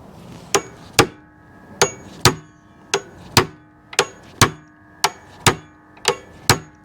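Hammer strikes on a metal part of a 1994 Corvette C4 pop-up headlight motor, about fourteen sharp blows at a steady pace, close and loud with brief ringing after each.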